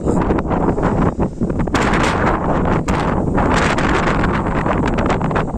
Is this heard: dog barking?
no